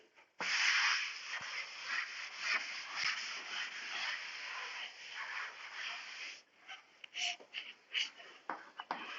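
An object being rubbed during a physics lesson gives a steady, close scraping friction for several seconds, then breaks into shorter separate rubs toward the end.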